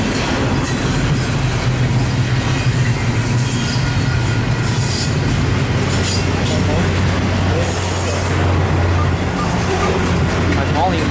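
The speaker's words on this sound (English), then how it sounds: "Could probably not be that long of a train." A loud Canadian Pacific freight train rumbling steadily past nearby, with continuous rail noise, faint wheel squeals and clatter throughout.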